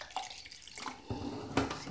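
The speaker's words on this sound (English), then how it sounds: "open that up, pour a teensy tiny bit in there" A teensy amount of liquid poured into a container for a homemade potion, a brief splashy trickle with small drips and soft clinks, close and fairly quiet.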